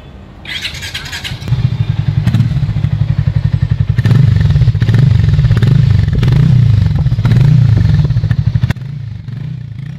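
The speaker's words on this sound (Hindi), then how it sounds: "अब मैं स्टार्ट करता हूँ ये बाइक एंड सुनाता हूँ आपको इस बाइक के एग्जॉस्ट साउंड।" A 2024 Bajaj Pulser 125 Neon Edition motorcycle starts with a clattering crank, then settles into a loud, close, pulsing single-cylinder exhaust idle with a few throttle blips before dropping back to a quieter idle near the end.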